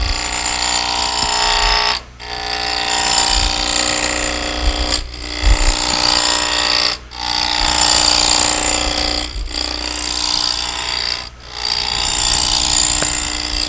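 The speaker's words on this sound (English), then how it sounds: "get on the bevel, find the chips are flying across, and make your cut" A wood lathe spinning a workpiece for inside-out turning while a gouge cuts, giving a loud, continuous whirring scrape broken by a few brief pauses between passes.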